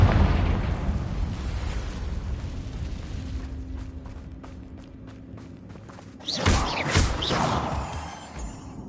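Confringo fire spell cast in the Hogwarts Legacy video game, a sudden loud burst with a crackling blast about two-thirds through, following a quieter stretch of rhythmic ticking game sounds.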